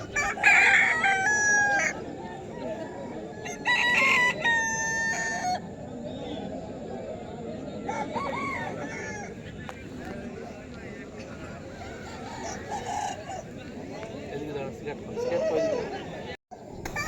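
Roosters crow repeatedly at a rooster fair in a tribal village market, the calls loud and overlapping amid busy crowd chatter and people talking nearby.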